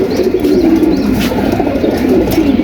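Low, steady cooing from pigeons, a continuous murmuring drone that fills the whole stretch without a break.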